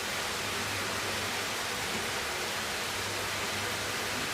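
A river rushes behind a foot-pedal pottery wheel, a steady broadband roar of flowing water that fills the whole stretch evenly, with a faint low hum from the wheel's motor underneath.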